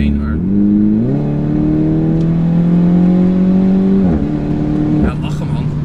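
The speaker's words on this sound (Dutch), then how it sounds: "Minis die een beetje herrie maken en zo." A tuned MINI Cooper S JCW Stage 2 engine drones loudly and steadily from inside the car. Its pitch steps up and down as the revs change, with people talking over it.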